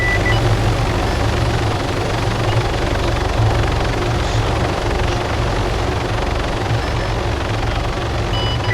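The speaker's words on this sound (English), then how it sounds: "Scout 1 is merging into runway 27 for takeoff, over." An aircraft engine taxiing for takeoff in the Arma 3 combat game gives a loud, steady, close rotor-like drone with a low thrumming pulse throughout.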